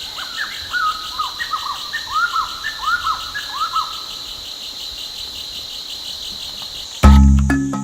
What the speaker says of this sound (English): I'm away from the city in this amazing jungle of Arunachal Pradesh, and here I can listen to the bird sounds